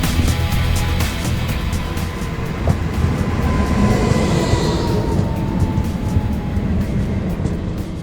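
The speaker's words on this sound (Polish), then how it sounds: "Wsiadamy do pociągu i jedziemy dalszą drogę." Regional passenger train running on rails through the Wałbrzych Mountains, heard from inside as a continuous heavy low rumble with rhythmic clatter and a faint high whine, loud and steady throughout with no voices.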